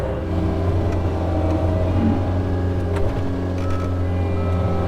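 A skid steer loader engine runs steadily at a farm pond dam repair, a close, continuous low diesel drone with faint mechanical clatter and no change in pitch.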